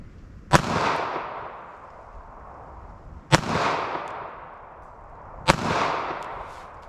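.32 ACP pocket pistol fires three sharp, loud shots a few seconds apart, each followed by a long echoing tail that fades before the next.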